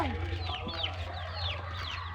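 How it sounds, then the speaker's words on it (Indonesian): An Indonesian village chicken clucks in quick, close, repeated calls, with a faint low hum underneath. "Tuh ayam kampung terpopulernya lagi."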